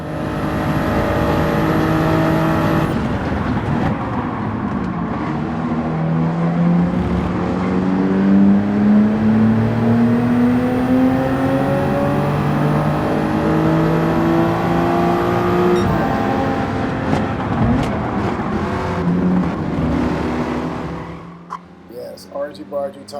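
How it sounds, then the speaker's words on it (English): Toyota Supra Concept race car in Gran Turismo 7 at Autopolis, Japan, its engine droning loudly and continuously, pitch climbing and falling through gear changes for about twenty seconds before dropping away at the end. "have a listen to this audio from the car"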